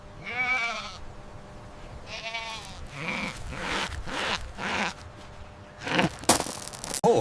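A goat bleats several times in quavering, wavering cries at close range, with other livestock bleats and rustling sounds between them.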